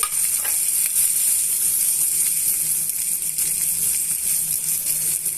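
Chopped onion and green chillies frying with ivy gourd in hot oil, a steady, bright sizzle that runs continuously and close up, with a faint clink near the start.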